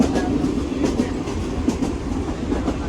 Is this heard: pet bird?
no